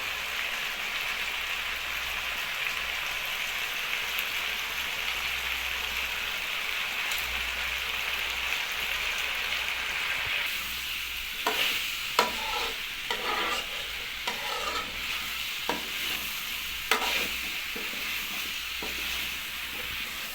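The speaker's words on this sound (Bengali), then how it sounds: "এইভাবে হালকা জল দিয়ে দিয়ে ভালোভাবে কষে নিতে হবে।" Bottle gourd and pumpkin curry, seasoned with chili, coriander and turmeric powders, sizzles with a little water in a pan; a steady hiss runs throughout, then repeated rhythmic spatula scrapes and knocks take over in the second half.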